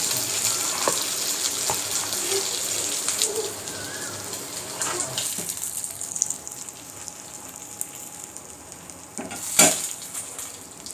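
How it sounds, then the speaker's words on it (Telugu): Fish pieces deep-frying in hot oil give a steady, close sizzle with crackles and pops that ease slightly partway through, with occasional sharper spits and a brief clatter near the end. "ఈ ఫిష్ పీసెస్ని వేసుకొని ఫ్రై చేసుకోవడమే"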